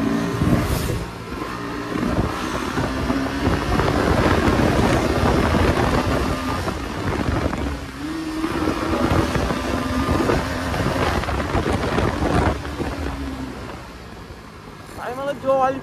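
A Bajaj Pulsar NS motorcycle revs at full throttle, its engine note rising and falling through gear changes beneath heavy rushing wind noise, with a rider talking over it.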